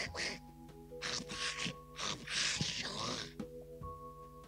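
A voice imitates Donald Duck's quacking in a series of raspy, nasal squawks with breaks between them, loud and close, with the sound of a live show around it.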